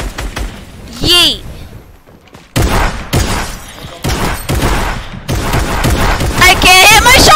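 Gunfire from a video game cracks in sharp bursts among loud, excited voices of players shouting over one another.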